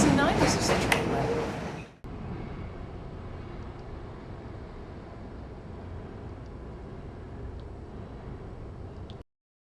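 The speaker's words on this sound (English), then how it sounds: "we get interrupted by the train all the time" A passing train heard from inside a busy second-grade school classroom: a brief burst of nearby activity gives way to a loud, steady, broadband rumble that fills the room for about seven seconds, then cuts off.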